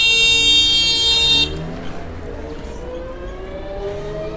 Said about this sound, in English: We're going to let that car pass before we go through.